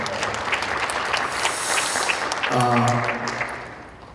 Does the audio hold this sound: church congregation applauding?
yes